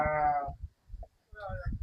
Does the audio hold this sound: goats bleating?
yes